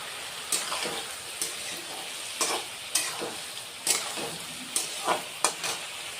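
Tomato and garlic are sautéed in a pan, with a steady frying sizzle broken by repeated scraping strokes of a spatula, each one a sharp, close swish at an irregular pace.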